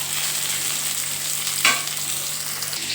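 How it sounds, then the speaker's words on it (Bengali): Duck eggs or vegetables frying in a little oil, a steady close crackling sizzle with a brief stirring scrape partway through and a low background hum. "আমি একটুখানি তেলে হালকা করে ভেজে নেব।"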